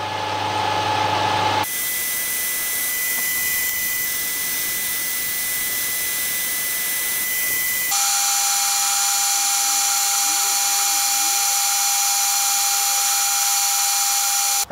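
Metal lathe turning stock under power feed at a 1.5 mm depth of cut, giving a steady whirring, whining drone that changes tone partway through and holds at constant loudness, with no talk over it.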